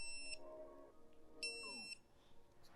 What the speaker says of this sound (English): Okay, here's the beep first.